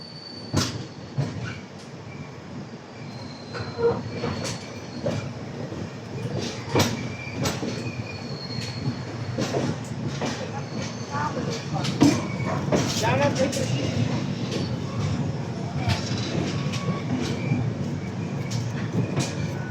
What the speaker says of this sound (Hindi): 2:03 में यहाँ पहुँच चुकी है हमारी ट्रेन